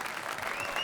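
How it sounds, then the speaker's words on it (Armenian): A studio audience on a television talk show applauds its guests, a dense, fairly faint patter of many hands clapping without pause throughout. "Ծափարենք մեր հյուրերին շատ բարձր ծափարենք։"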